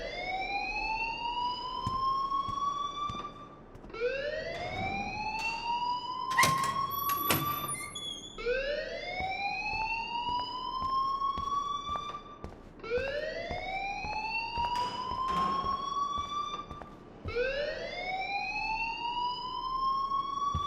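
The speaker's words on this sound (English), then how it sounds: "please turn off that alarm since that's your job" A rising, wailing alarm cycles repeatedly in Life Is Strange, each sweep climbing in pitch over about two seconds before restarting, loud and continuous, with a few sharp clicks and bangs breaking in partway through.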